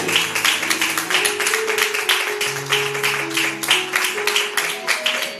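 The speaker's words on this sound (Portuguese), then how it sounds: "Glorifique a Ele com as suas palmas." Congregation clapping at a Portuguese-language church service, continuous rhythmic hand claps in unison over a held background keyboard or organ tone, fairly loud and close.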